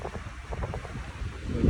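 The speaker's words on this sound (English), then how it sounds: "it's way too windy" Strong westerly wind gusts buffet the microphone at a stone fort on a winter night, a steady low rumbling roar that swells and eases, growing loudest at the end.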